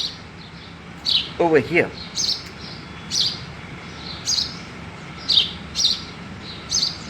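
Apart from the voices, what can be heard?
birds chirping in a garden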